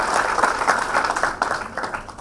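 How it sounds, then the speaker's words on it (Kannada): Sustained applause from an audience at a Kannada book release event for The Battle of Sanskrit, a dense crowd of clapping hands that holds steady for a couple of seconds before tapering slightly. "ಕೊನೆಯದಾಗಿ ನನ್ನ ಪರವಾಗಿ ದಯವಿಟ್ಟು ವಿ ಕೃಷ್ಣ ಅವರಿಗೆ ಒಂದು ದೊಡ್ಡ ಚಪ್ಪಾಳೆ ತಟ್ಟಿ"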